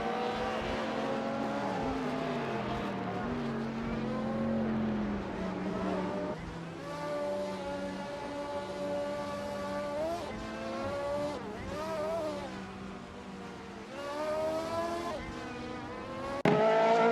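Race cars lapping the Spa circuit in a racing video game, engines droning steadily with rising and falling pitch sweeps as cars accelerate and shift, continuous and moderately loud throughout.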